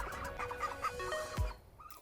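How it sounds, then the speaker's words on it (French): Ducks calling in short, irregular quacks near a holiday-park cottage door in France, several calls over a couple of seconds with a low thump near the end. "Les canards s'invitent."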